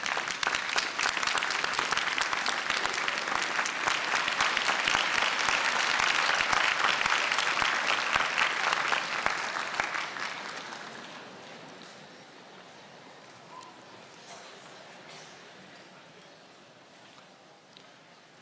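Graduates at a spring university convocation ceremony applauding their family and friends, a broad, sustained round of clapping that swells and then fades to scattered claps and quiet.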